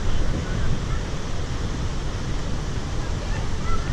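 Gokak waterfall in Karnataka, heard as a dense, continuous roar of rushing water that stays steady and loud throughout, with wind buffeting the microphone.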